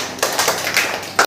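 A brief patter of hand claps rewarding a correct quiz answer at an Independence Day school celebration, with a handful of uneven, close claps over about a second and a sharper final clap.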